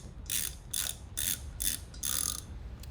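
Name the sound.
ratchet removing bolts from a backwater check valve cover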